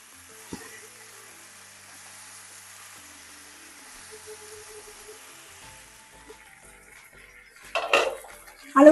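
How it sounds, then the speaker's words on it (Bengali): Boiled potatoes fry with spices in an oiled pan as a faint, low sizzle runs in the background. Sharp clatter from a spoon or spatula against the pan grows louder near the end. "এখন আমার আলুটাকে অ্যাড করে দিয়ে এই মশলার সাথে আবার কষিয়ে নেব।"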